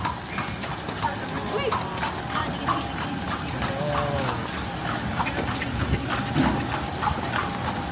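Horse hooves clip-clop steadily on pavement as a horse-drawn kalesa rolls through Calle Crisologo at night, a continuous rhythmic clatter close by, with people's voices in the background.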